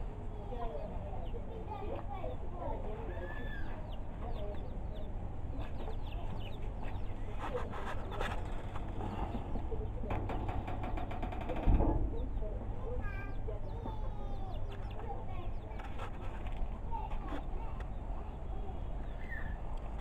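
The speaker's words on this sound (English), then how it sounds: "This is chicken having fun." Local chickens cluck softly and intermittently outdoors among farm beds, over a constant hum of ambient background noise.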